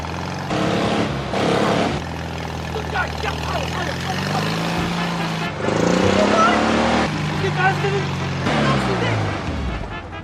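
A car engine revs and strains in repeated surges, its pitch climbing and falling, while people talk loudly over it.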